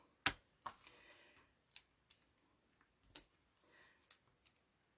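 Scissors trimming the ends of paper card for a handmade Valentine card, a series of close, crisp snips at irregular intervals with quiet pauses between, no talk.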